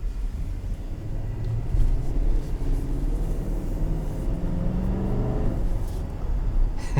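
A 2021 Nissan Armada Platinum with a 5.6 engine driving, heard from inside the cabin as a steady low rumble and road drone, continuous and moderately loud.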